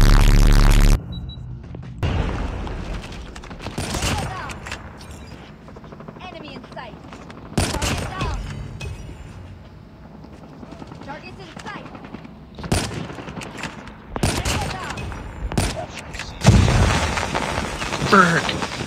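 Explosive grenade launcher blasts and gunfire in the COD Mobile video game, several loud bursts separated by quieter stretches, with a player talking over the action.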